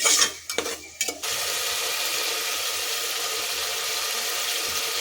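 Tomato with turmeric fries in oil, a steady close sizzle filling the clip after a few brief stirring scrapes and clinks of a utensil against the pan at the start.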